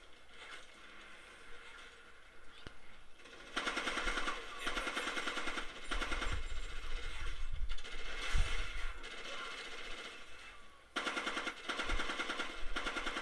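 Automatic machine gun fire in Ghost Recon Advanced Warfighter, a military shooter video game, comes as sustained rapid bursts of rattling shots with brief pauses between volleys and mechanical clatter underneath.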